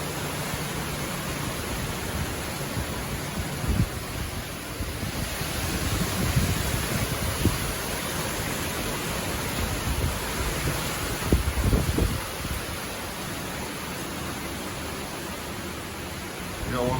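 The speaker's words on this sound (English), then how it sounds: "This is the effects of Tropical Storm 13." Tropical storm winds rush over the water in the early morning dark, steady roaring wind and surf hiss with a few gusty buffets against the microphone, and no one speaking.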